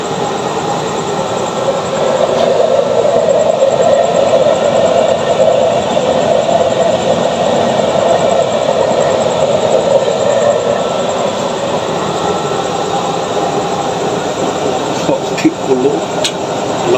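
A used-oil stove burner roaring at high flame, a steady, loud broadband rush that holds throughout with little change, and a voice talking briefly.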